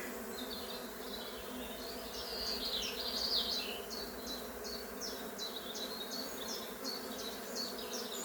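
A honeybee colony in an opened hive gives off a steady, close buzzing hum, with individual bees droning past in repeated pulses over the continuous drone.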